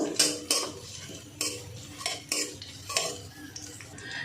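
Stirring in ghee in a pan: repeated scraping and knocking of a metal spoon against the pan at an uneven rhythm, close by, over a faint background sizzle.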